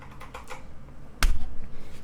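Typing on a clicky tactile Huntsman V2 keyboard, with soft scattered keystrokes followed by one sharp, loud click and a quieter patter, all close up.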